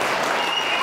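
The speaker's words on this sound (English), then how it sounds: "that's a loud cheer for a relatively local Whippet" A crowd at a championship dog show gives a dense burst of applause and cheering for a whippet, loud and continuous throughout.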